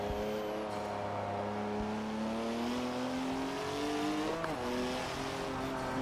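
A BMW M2 drifts at speed in Forza 7 with a steady, loud engine drone at high revs, the pitch rising slightly with a brief gear-shift dip, and faint tire squeal underneath, no voices.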